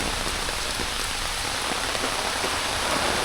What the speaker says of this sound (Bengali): সকাল থেকে এত পরিমাণ বৃষ্টি